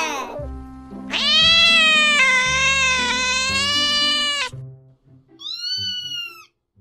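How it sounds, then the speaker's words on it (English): A cat meows in one long, loud, drawn-out wail, followed by a shorter meow after a brief pause, heard clearly up close. "C for cat."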